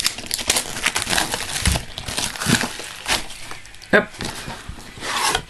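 Plastic shrink wrap peeled and torn off a DVD box set, making close, steady crinkling and crackling with short tearing bursts and one sharp snap near the end, while a voice briefly interjects.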